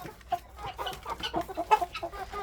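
Several Faverolles hens and an old Brahma rooster cluck and murmur close by in short, uneven bursts, a busy, chattering flock with no one speaking.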